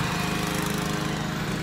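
Lawn mower engine running steadily at close range, a continuous droning hum with a low rhythmic pulse and no pauses or talk.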